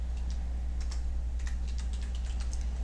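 Rapid, light keystrokes on a computer keyboard during spreadsheet work, a steady patter of close clicks over a constant low hum.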